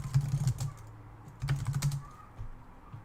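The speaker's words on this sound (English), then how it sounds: "Okay, I think typing is done for now." Typing on a computer keyboard at a desk, two short bursts of rapid key clicks separated by a pause, close and fairly quiet, with no talking.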